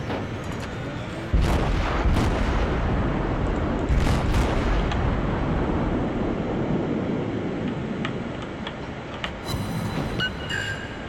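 Warship guns fire in World of Warships, heavy booms hitting at intervals over a constant loud engine-and-sea rumble, with sharper clattering impacts toward the end.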